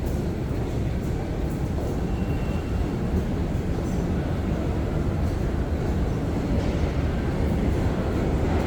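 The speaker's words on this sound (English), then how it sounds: "both these trains are going downtown. They leave the station going completely different directions" New York subway trains pull out of the Times Square station, a dense, steady rumble and roar filling the platform at close range, with faint squeals above the low drone and no talking.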